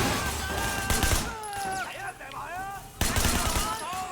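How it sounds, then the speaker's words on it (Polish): Rifle gunfire in the video game Sleeping Dogs, loud bursts of shots at the start and again near the end with a quieter gap between, and someone talking over parts of it. "Oni potrzebują sporo strzałów, naprawdę."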